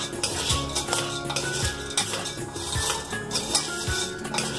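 Areca nut pieces being mixed for mava, with rattling scrapes and clinks of metal against a dish in steady, repeated strokes, close and busy throughout.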